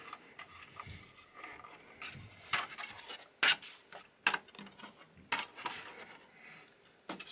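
A mount on a GVM 560AS LED barn-door light panel is tightened by hand, giving a series of short, close rubbing and scraping clicks in irregular bursts with quiet gaps between them.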